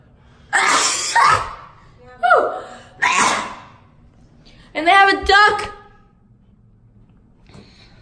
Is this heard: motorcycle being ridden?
no